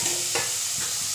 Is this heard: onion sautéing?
yes